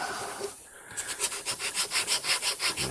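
Hand-scuffing a smooth plastic surface with an abrasive on a box gun project: about a dozen quick, even back-and-forth rasping strokes, close and clear after a short pause.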